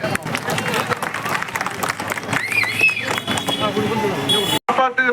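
An audience at a public welfare-aid event in Tenkasi breaks into loud, sustained clapping and cheering that fills the hall. A voice speaks over it, and a brief dropout comes near the end.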